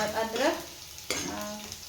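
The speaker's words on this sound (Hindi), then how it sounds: "मैंने इसमें लगा दिया है तड़का। जीरा डाला है, वो और ये लाल मिर्च डाली है, हरी मिर्च डाली है, और अदरक" A tadka of cumin, red and green chillies and ginger fries in hot oil with a steady crackling sizzle and the scrape of stirring, close and moderately loud, with no talking.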